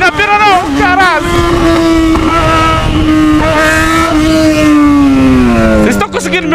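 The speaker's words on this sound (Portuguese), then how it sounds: "a moto tá berrando demais, mano!" A Yamaha XJ6 motorcycle revs loud and close during a street ride, its engine note rising and falling continuously while someone shouts over it.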